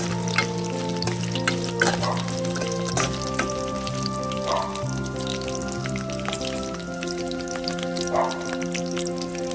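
Two green chillies frying in hot oil in a pan over a low flame, giving a steady close crackling sizzle with scattered pops and spatters throughout, no voices.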